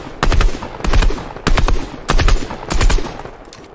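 Rapid automatic gunfire in the Fortnite video game, about five short loud bursts of several shots each in quick succession, with no talking.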